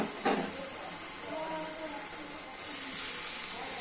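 Pabda fish curry sauce boils in a pan, giving a steady, close sizzling hiss that carries through the whole stretch and swells slightly near the end.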